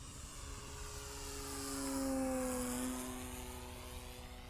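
An FMS 1400mm Olympus F3A RC aerobatic plane flies maneuvers, its steady electric motor whine swelling as it passes closer in the middle and then fading again, heard alone at a moderate distance.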